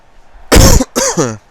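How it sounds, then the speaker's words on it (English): A person with a cold gives a harsh, loud cough followed by a rasping throat clear, two close bursts separated by a brief pause. "I do apologise for my sniffling and coughing"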